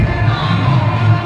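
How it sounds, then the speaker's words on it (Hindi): A dense crowd of devotees mills about at the Thekma fair in Azamgarh, producing a loud, steady wash of close-up murmur and bustle with no breaks across the brief moment. "इधर देखिए श्रद्धालुओं का भीड़ लगा हुआ है"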